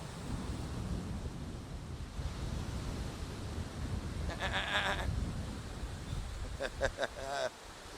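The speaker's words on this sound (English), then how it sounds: "we got some goats up here, wild goats" A few short wild goat bleats ring out in the distance midway and again near the end, over a constant outdoor rush at Half Moon Bay beach, Antigua.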